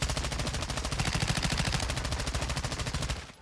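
Rapid automatic fire of tracer rounds with explosive ammunition in Modern Warfare II, a dense, steady burst of shots lasting about three seconds before cutting off.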